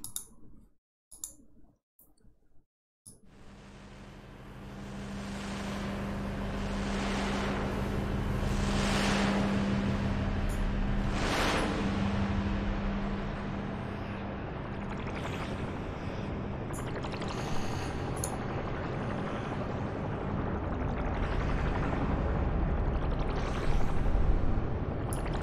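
A synthesized patch built in VCV Rack, meant to evoke a Grignard chemical reaction, starts with sparse clicks, then swells into a dense, noisy, continuously shifting wash with a low steady drone, sustained for over twenty seconds.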